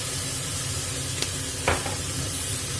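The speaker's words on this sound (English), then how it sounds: "stir all these seasonings into your rice" Rice being stirred in a pan with salt, soy sauce and sesame oil, a steady close sizzle and hiss with a couple of brief scraping clicks.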